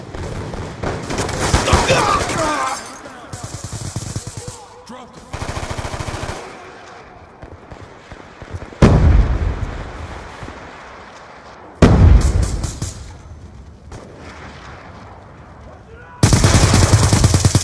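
Call of Duty: Black Ops 2 gunfire: loud bursts of automatic fire and heavy blasts come in several separate volleys with short gaps between them, and shouted voices break through between the shots.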